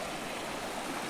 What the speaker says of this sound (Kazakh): Кішкентай өзен.